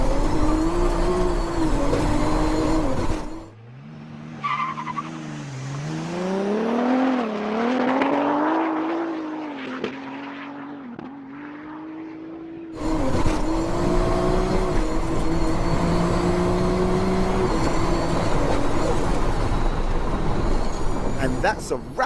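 Dual-clutch Toyota Supra accelerating hard down a drag strip, its engine note climbing through rising revs with quick shifts, loud and sustained, blended with a commentator's talk and crowd noise.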